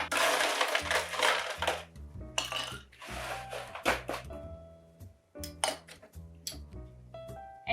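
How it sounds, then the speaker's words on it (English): Ice cubes clatter and crunch into a metal cocktail shaker, first in a dense rattling pour and then in scattered loud clinks and knocks, close and alone with no talking. "Put some ice in your shaker."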